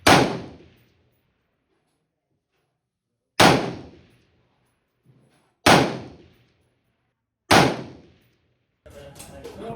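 Shots ring out on an outdoor rifle and pistol range during optic zeroing: four loud, sharp reports spaced a few seconds apart, each decaying over about a second, followed by rustling noise.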